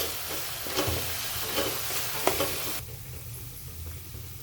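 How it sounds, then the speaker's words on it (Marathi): Green chili paste being sautéed in a pan for a Navratri fasting dish, with steady close sizzling and a few soft stirring scrapes before the frying noise drops to a quieter hiss. "आता ह्या वाटणाला पण चांगलं परतून घ्यायचं"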